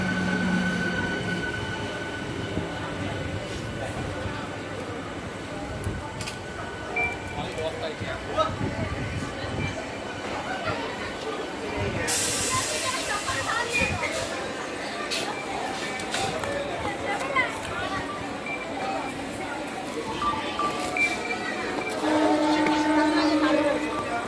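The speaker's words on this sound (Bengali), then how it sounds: "এই ট্রেনে আমি হাওড়া যাব।" An Indian Railways passenger train heading toward Howrah runs steadily for a long stretch, with rumbling wheels, clanks and occasional squeals heard from inside the carriage, while people talk in the background.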